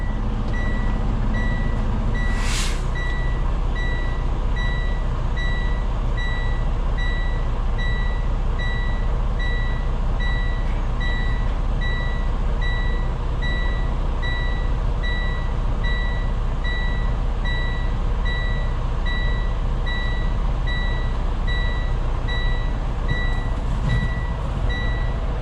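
A semi truck idles and maneuvers at a concrete loading dock, its diesel rumble loud and constant while a steady reversing beep repeats in an even rhythm across the whole stretch, with a brief hiss near the start.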